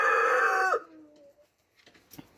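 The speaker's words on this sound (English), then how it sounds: "Red rooster is a great rooster." A red rooster crows once, loud and close, the call ending in a falling tail before quiet barnyard sounds.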